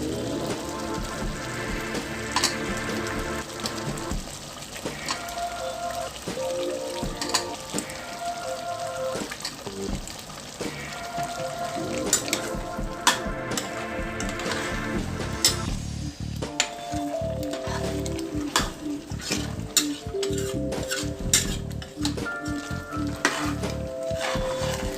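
Potatoes frying and being stirred in a pot of aloo gosht meat curry, with continuous sizzling and crackling broken by scraping and knocking of the spoon against the pot, close and steady for the whole stretch.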